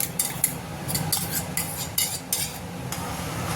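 Mango pulp is stirred into milk and water in a pan, with a spoon scraping and clinking against the metal in irregular strokes over a soft simmer. No one speaks.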